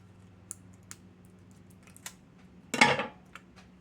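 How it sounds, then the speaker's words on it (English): Scissors cut through plastic blister packaging holding garage door remote batteries: a short, dense crinkling snip burst close by, after a few faint scattered clicks in a quiet room. "Just take a pair of scissors and cut it out."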